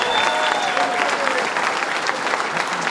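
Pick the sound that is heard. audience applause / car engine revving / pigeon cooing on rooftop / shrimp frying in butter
audience applause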